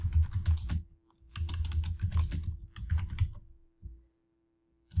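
Quick, close clatter of keys on a computer keyboard as a name is typed, in several bursts of rapid keystrokes separated by short pauses, ending with a couple of isolated taps.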